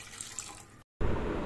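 Water pours steadily into soaked rice and lentils for bisibelebath, a continuous rushing splash that breaks off briefly and then resumes louder and fuller.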